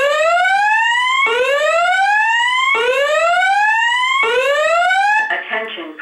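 Building emergency evacuation alarm from a home system test: four loud rising electronic whoop sweeps in steady succession, each climbing in pitch over about a second, ending in a brief harsher tone.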